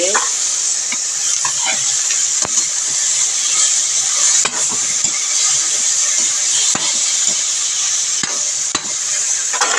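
A pan of pinangat with tomato and chili sizzles loudly and steadily while a utensil stirs it, scraping and tapping the pan in occasional sharp knocks.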